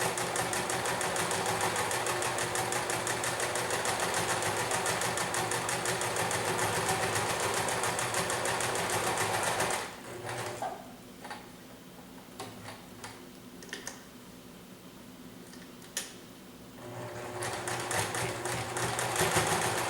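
A sewing machine restitches a cotton mask, whirring steadily and close for about ten seconds, then stopping for quiet handling clicks before starting up again.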